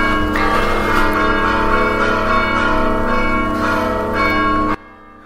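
A church bell rings loudly and repeatedly with rich, lingering overtones, then cuts off abruptly near the end.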